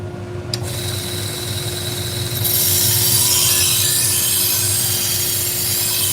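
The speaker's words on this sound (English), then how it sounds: "I'm using a 120 grit too, so it sounds really rough" A Shun kitchen knife of very brittle steel is ground on a 120 grit abrasive, giving a continuous rough, hissing scrape that starts after a brief click and grows louder and steadier, heard close with no talk.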